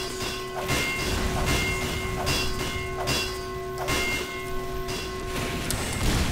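Bells ring repeatedly on a Team Fortress 2 map, with bright sustained metallic tones struck again and again over a loud, busy, clattering game soundscape.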